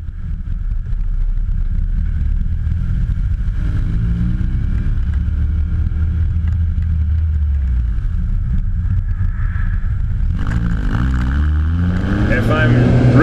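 An old $500 car with a harsh aftermarket exhaust idles loud and close in a steady rumbling drone, rising briefly as the engine revs near the end, with a voice talking over it.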